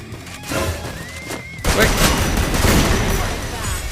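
Gunfire in Free Fire, a rapid loud burst of shots over game noise, with a speaker talking over the action.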